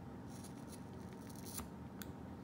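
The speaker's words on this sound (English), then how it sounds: "So now we can go ahead and use our handy dandy scissors here" Scissors trim the excess cord from a handmade bracelet with a buckle closure, producing a few faint, quiet snips close by in a still room.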